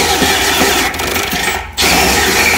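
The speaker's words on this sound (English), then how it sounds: "I'm going to go ahead and line my drill up on top of my hole. And then I'm going to go ahead and start drilling." A cordless drill fitted with a step bit bores a hole in metal while converting a gas still to electric, a loud continuous whine that briefly slows and dips before revving back up.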